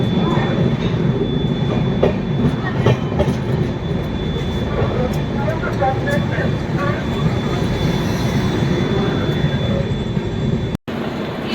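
The Sealdah–New Delhi Rajdhani Express, a long-distance passenger train, rumbles and rattles steadily as it pulls into platform 3 at Dhanbad Junction, heard loudly from onboard with a constant dense roar.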